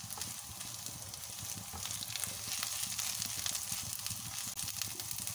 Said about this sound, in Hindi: अभी जो प्याज काटा था वो डाल दें। प्याज को भी अब हमने हल्का सा पकाना है।